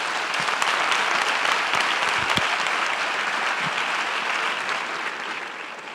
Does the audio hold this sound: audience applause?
yes